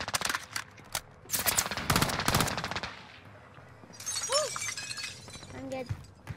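Gunfire in Call of Duty on Rebirth Island comes as rapid bursts of shots with shattering impacts, then quieter game sounds, with voices talking over it.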